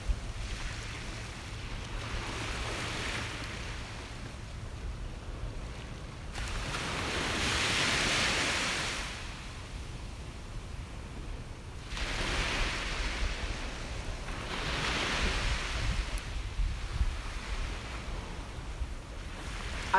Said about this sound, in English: the sound of the waves is so relaxing